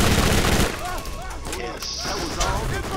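In the Borderlands shooter, rapid gunfire is aimed at brutes: a steady stream of sharp, close shots and bursts with chaotic combat noise, while players talk over the shooting.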